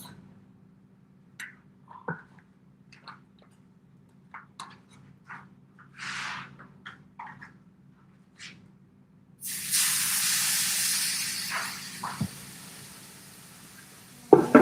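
Oil in a hot skillet starts with scattered light taps and clicks, then bursts into a loud, steady hissing sizzle that continues for several seconds before a couple of sharp clatters at the end.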